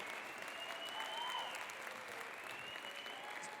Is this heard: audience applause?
yes